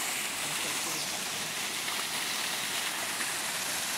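Water flowing in a stream at an old stone quarry, a steady, dense rushing and splashing wash heard close and fairly loud, with no talking.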